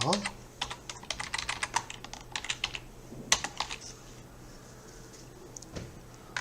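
Typing on a computer keyboard, a run of quick key clicks in uneven bursts with a few pauses and a louder single strike, close and fairly quiet over a faint room hum.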